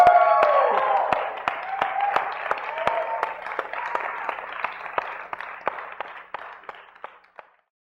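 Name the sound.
audience applause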